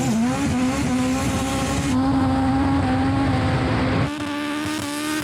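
A Porsche racing at full throttle, its engine holding a loud, steady high-revving drone that shifts pitch partway through, with a possible faint tire squeal, close and continuous with no talking.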